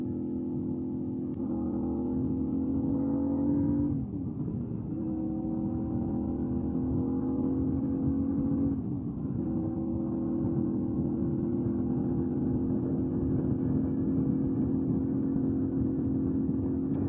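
A Honda Ruckus scooter rides alongside, its engine a steady close whir with brief revving dips, heard alone over continuous road noise.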